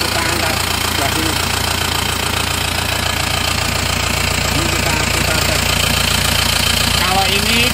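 An Isuzu Panther diesel engine runs loud and close, with a steady knocking clatter that keeps going throughout as a voice talks over it.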